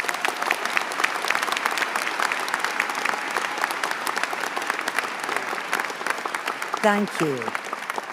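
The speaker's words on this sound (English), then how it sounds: "let's give the entire class a round of applause" A graduation crowd applauds the law class, a dense, steady clapping that fills the hall, with a brief spoken voice near the end.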